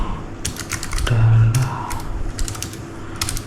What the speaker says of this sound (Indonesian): percobaan untuk tes keyboard dari Keychron.